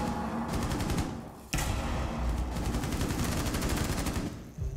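Rapid automatic gunfire in a first-person shooter video game, dense bursts of shots with a brief pause near the middle, fairly close and loud.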